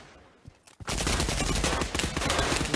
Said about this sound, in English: the MG42, it has a very, very fast rate of fire